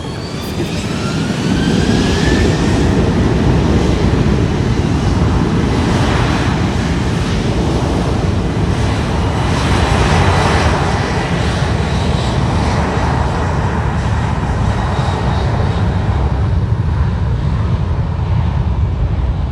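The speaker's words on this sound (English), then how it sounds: "The Iberia now lining up." Iberia airliner taking off at San Juan airport in Puerto Rico, a loud continuous jet-engine roar with a broad rumble that stays strong throughout.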